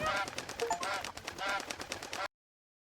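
A goose in the Ells Tales Chicken video game honks in rapid, harsh, repeated bursts, close and loud, for about two seconds before the sound cuts off abruptly.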